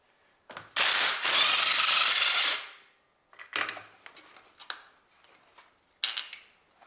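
A ratchet wrench loosening bolts during engine and gearbox separation on a Honda Civic 1.8 R18A1, with a long continuous clicking run followed by several shorter ratcheting bursts, close and loud with no talk.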